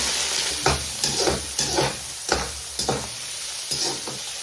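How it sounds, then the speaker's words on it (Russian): Meat sizzling and crackling in hot oil in a cauldron over high heat, with repeated bursts as pieces are stirred or turned, close by and steady. "И жарим на большом огне"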